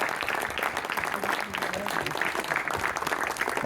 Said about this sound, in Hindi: एक बार और ताली बजा दें